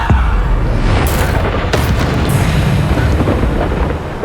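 Bombarda blasting spells exploding in Hogwarts Legacy, loud booming bursts that roll into a continuous rumbling roar, with a couple of sharper cracks near the start.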